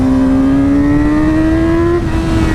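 The engine of a 2019 Yamaha R6 motorcycle climbs steadily in pitch on a test ride, a loud, close, high whine with strong wind rumble underneath, easing off briefly near the end.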